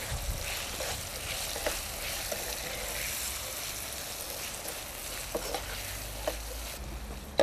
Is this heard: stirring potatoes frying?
yes